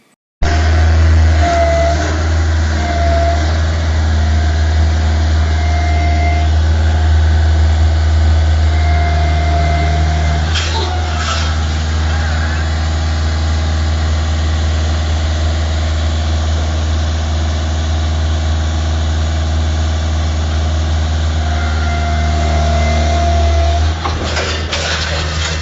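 A cherry picker's engine idles with a loud, steady low rumble and a faint revving rise in the middle.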